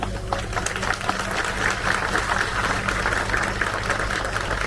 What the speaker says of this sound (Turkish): öncelikle Profesör Doktor Kamil Okay Sındır'a bir kocaman alkış istiyorum